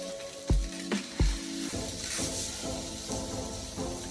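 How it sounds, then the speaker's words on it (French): Salmon sears in hot oil in a frying pan, a steady close sizzle and hiss running throughout, with a few sharp knocks and scrapes of the fish being placed and turned near the start. "Quand la poêle est assez chaude, on grille le saumon de tous les côtés à peu près 30 secondes."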